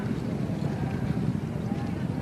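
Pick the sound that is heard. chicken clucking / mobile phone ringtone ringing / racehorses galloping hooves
racehorses galloping hooves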